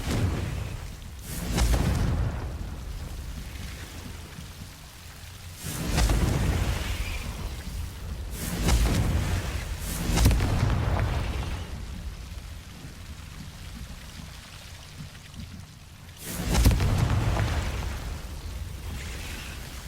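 Confringo spell explosions in the video game Hogwarts Legacy: several heavy booming blasts spaced a few seconds apart, each followed by a rumbling decay over a low ambient background, with no talking.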